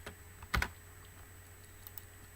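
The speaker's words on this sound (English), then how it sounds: "so I'm going to type yes to proceed" A few keystrokes on a computer keyboard while entering an answer in a flashcard study app, with one brief cluster of clicks followed by a couple of faint taps against a quiet room.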